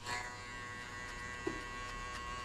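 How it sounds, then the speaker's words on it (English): An electric hair clipper buzzes steadily while cutting a mid drop fade, a close, continuous motor drone with a couple of brief clicks as the blades flick out near the end. "always flick the clipper out"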